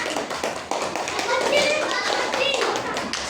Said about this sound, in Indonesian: Tepuk tangan untuk yang mata elang enggak?